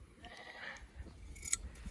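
Sheep on a farm during shearing give a faint, short bleat, with soft handling and snipping noises close by in a quiet setting.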